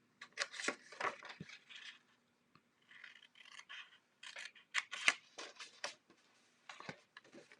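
Scissors snip through card stock in quick bursts, cutting pieces out along score lines for a slimline card; close, crisp blade strokes come in clustered runs separated by short pauses, with no talking.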